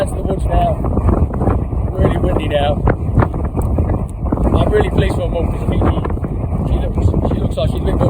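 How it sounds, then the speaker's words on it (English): Strong gusting wind in woodland in the Peak District, loud roaring buffeting against the microphone that stays constant throughout with low rumble and no talk over it. "Really windy now"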